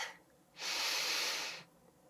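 Steady exhaled breath during a beginner no-equipment core workout, a single long airy breath lasting about a second, close and moderately loud, with quiet pauses on either side.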